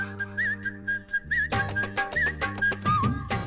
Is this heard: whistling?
yes